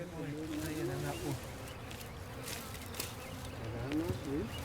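Bees swarm around a well-hidden hive on the ground behind bushes, giving a close, continuous buzzing with faint murmuring voices mixed in.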